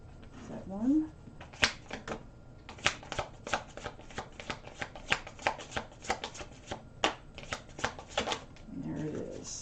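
Tarot cards are shuffled by hand in a long, quick run of crisp riffling snaps and flicks, close and fairly quiet, with a short murmur of voice at the start and at the end.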